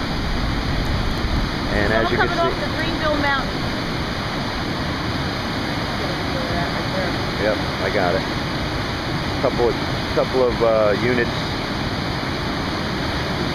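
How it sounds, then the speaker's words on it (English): Fast-moving creek swollen by Hurricane Irene floodwater pours over a road in a steady, loud broadband rush, with voices talking over it and faint radio chatter. "which is a pretty fast moving creek that usually doesn't have much water at all"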